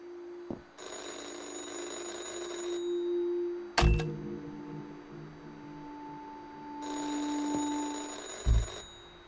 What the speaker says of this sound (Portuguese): O telefone tá tocando ali, o orelhão ali, ó.